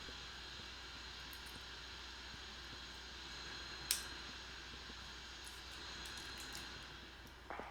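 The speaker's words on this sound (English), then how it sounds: "It'll spool up, then we hit the starter for that engine." The F-5E jet engine spools up in the DCS flight simulator as a steady, even whine and rush of noise, with one brief click partway through.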